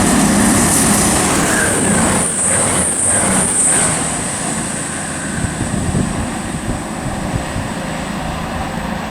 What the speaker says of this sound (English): passing now is a cross-country service to Reading from Newcastle